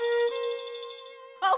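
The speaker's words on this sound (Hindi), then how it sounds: "मैं फोन उठाती हूँ।" A telephone ringtone plays in a home, a steady electronic tone that rings close and clear for over a second before a brief burst of another sound cuts in.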